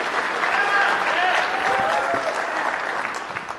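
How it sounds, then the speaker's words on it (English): Sustained applause from a DEF CON conference audience greeting a speaker, a loud, dense, even roar of clapping with crowd noise and faint voices mixed in, easing slightly at the end. "give him a round of applause"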